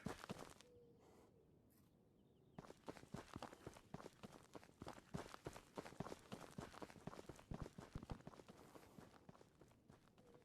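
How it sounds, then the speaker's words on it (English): Rapid footsteps from players running inside a building in the video game Ghosts of Tabor, a dense run of sharp steps and shuffles that starts after a quiet opening and keeps going steadily, fairly close, with no talk. "I just heard footsteps in there"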